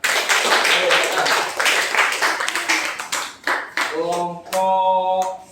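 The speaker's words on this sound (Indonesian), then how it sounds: "tepuk tangan untuk kelompok pengusaha" Students in a university classroom clap for a group of presenters, brisk close claps that thin out and fade, followed by a voice speaking.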